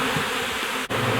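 Honeybees buzz around an open hive during a frame inspection at a Pueblo apiary, a dense, continuous droning hum close to the microphone with a single brief dip near the end.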